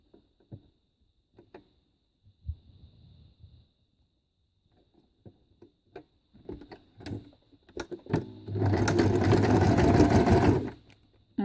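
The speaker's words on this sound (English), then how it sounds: "I've just been using a small zigzag stitch." A sewing machine runs a small zigzag stitch across paper notepads made from cash register receipts; scattered clicks and handling come first, then a loud, steady mechanical whirr for about two seconds.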